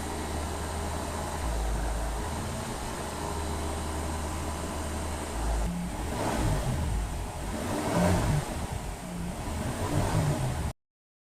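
A Honda Accord Sport engine is held at a steady 2,000 RPM during intake valve and fuel injector cleaning, a constant close hum with a slight surge and rougher rumble partway through before it cuts off abruptly.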